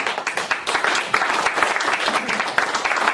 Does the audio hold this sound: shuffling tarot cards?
no